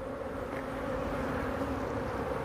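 Honey bees buzz at an apiary hive, a dense steady drone of many bees close by, continuous and unbroken with no voices.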